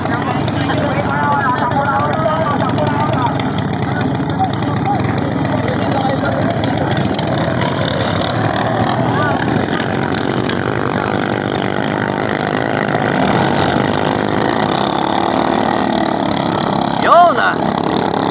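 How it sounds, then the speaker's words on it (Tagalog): The Lady Jody, a racing boat in the Mamatid boat race, runs its engine with a steady motor drone that sits under constant crowd noise and loud commentary. "umandar na ang makina ng Lady Jody"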